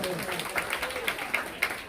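Applause from a crowd at a regional religious music association's convention, fairly quiet and distant, with individual claps standing out under the general patter.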